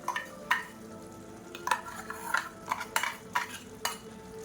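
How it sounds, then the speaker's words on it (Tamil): Coconut paste being stirred into drumstick kuzhambu in a pan: a spoon scrapes and swishes through the thick curry in a steady series of close strokes, with a faint simmering sizzle underneath and no talk. "சேர்த்து கலந்து விட்டுக்கலாம்."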